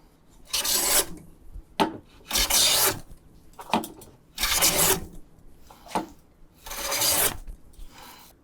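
A hand plane shaves along a wooden board with the grain, making five loud close rasping strokes with short pauses between them, each a drawn-out hiss-like shave with a quick return sound.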